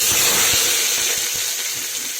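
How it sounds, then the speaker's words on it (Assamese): A steady, loud sizzle and hiss of onions frying in hot oil, close up, with faint crackles and no talking. "মই তেল গৰম হৈ যোৱাৰ পাছত মই পিঁয়াজ দিছোঁ।"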